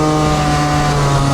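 Scooter engine fitted with a Stage 6 overrange kit, held at a high, steady rev with a strong buzzing drone and no break, loud and close throughout.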